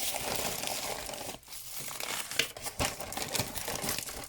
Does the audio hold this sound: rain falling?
no